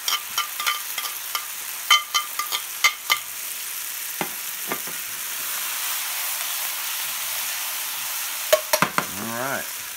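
Softening tomatoes and fresh parsley sizzle in a pan with steady frying hiss, broken by sharp clacks and scrapes of stirring, loud and close, with no talking.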